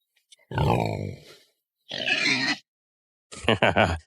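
Wild boar grunting in a backyard at night, three separate bursts of harsh, throaty grunts and snorts close by, with short silences between them and no talk over them.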